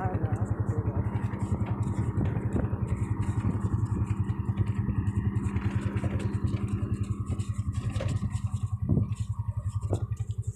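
A motorcycle engine running with a rapid, pulsing putter and clatter throughout, moderately loud, with people talking over it.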